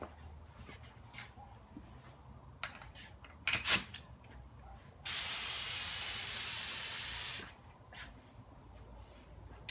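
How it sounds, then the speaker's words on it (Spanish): An air compressor runs while a high-use spray gun hisses in a steady burst of several seconds, applying primer to a car repair in a workshop, with shorter sprays and clicks around it. "la compresora de nuevo prendió, porque como les dije, la desventaja de estas pistolas es que usan mucho aire"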